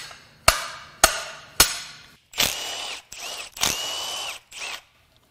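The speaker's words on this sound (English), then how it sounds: "The old slide hammer trick." A slide hammer pulling a part from a BMW S55 twin-turbo engine during a teardown, sharp metallic impacts struck in a slow series, then rattling, scraping pulls.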